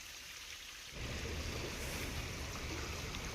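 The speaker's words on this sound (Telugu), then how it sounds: "చిన్న వాన పడలేదు ఇక్కడైతే" Heavy rain in a forest near a waterfall gives a dense, roaring hiss that swells suddenly louder after the first second and then holds steady and close.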